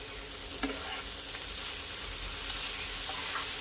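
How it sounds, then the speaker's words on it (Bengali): Chopped tomato hits hot oil and frying spices for a Bengali puti fish curry, giving a steady, close sizzle with occasional stirring scrapes. "এবারে এর মধ্যে আমি দিয়ে দেব একটা ছোট টমেটো কুচি করে রেখেছি সেইটা।"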